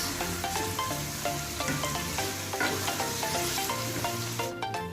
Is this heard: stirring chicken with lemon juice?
yes